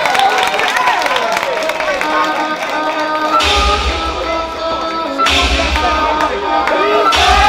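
A crowd claps and cheers for a performer at a dance battle, loud applause layered over pounding music with heavy bass hits and a pulsing beat.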